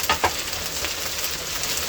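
Cumin paste and cardamom pods fry in a pan of hot oil for khuder bhat, a broken-rice dish. A loud, steady sizzle runs throughout, with two quick stirring clatters near the start.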